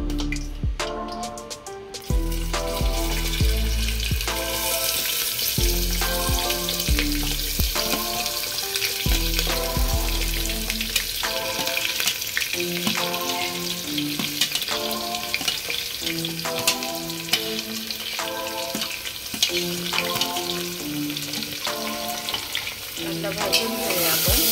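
Chopped onion and two bay leaves fry in hot oil over a full flame, a steady sizzle under continuous music for the whole stretch.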